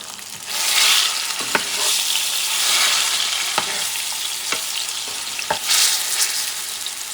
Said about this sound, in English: I'm just going to fry it. And I'm using some oil, not a lot.